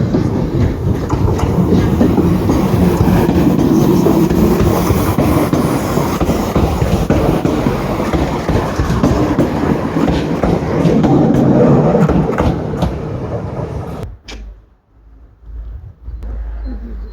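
A TGV high-speed train runs with a loud, continuous rumble and rhythmic clatter of wheels for about fourteen seconds, then the noise drops sharply to a quieter hum.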